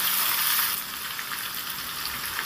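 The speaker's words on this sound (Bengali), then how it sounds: "দিয়ে ভালো করে নেড়ে চেড়ে একটু ভেজে নিতে হবে।" Chopped ginger and green chillies frying in a pan, a steady bright sizzle that stays loud and continuous, slightly easing after the first moment, with no talking.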